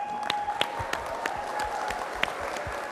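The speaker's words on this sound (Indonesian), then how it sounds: "Kita kasih tepuk tangan dong buat Nadine." A studio audience at an Indonesian TV talk show applauds, a steady patter of claps with a few sharper individual claps standing out, moderately loud and continuous throughout.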